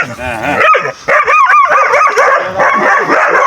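Dogs barking and yipping at close range, with a whimper mixed in, in sharp repeated bursts while someone talks over them.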